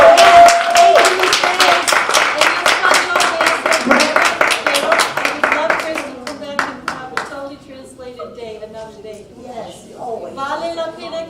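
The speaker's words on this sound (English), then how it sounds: "We have another good applause for Grace." An audience claps for a performer at a Black History Month reading, a quick run of sharp, evenly spaced claps that thins out and fades, then a voice begins speaking over the dying applause.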